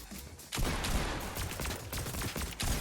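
Shotgun shots in Fortnite, a dense run of loud blasts and impacts after a short lull, continuing to the end with no talking.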